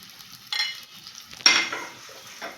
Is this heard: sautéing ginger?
yes